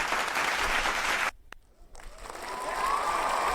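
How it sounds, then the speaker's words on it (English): Applause from a crowd plays loud, cuts out briefly into near silence, then resumes as a softer, sustained clapping. "There's applause."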